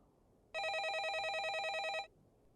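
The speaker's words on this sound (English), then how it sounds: "just before stepping out, the phone rang" A telephone bell rings in one steady, continuous trill lasting about a second and a half, loud and close against a quiet room, then stops abruptly.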